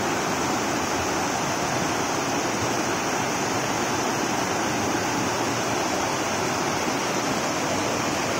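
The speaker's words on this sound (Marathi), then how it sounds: "पाणी बघा किती येते, बघा पाणी" Floodwater rushes across a broken village road in Bhankheda, a steady, dense roar of flowing water that holds constant and fairly loud throughout with no voices.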